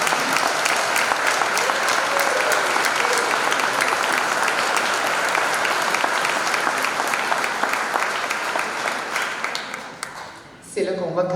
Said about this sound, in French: est-ce qu'on pourrait aussi applaudir chaleureusement les enseignants